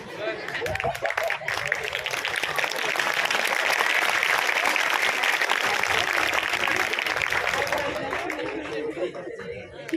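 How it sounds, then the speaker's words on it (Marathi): Sustained audience applause at a college gathering's opening ceremony, a loud, dense wash of clapping that swells and holds for several seconds before tapering, with some crowd chatter and laughter mixed in. "एकदा टाळ्या"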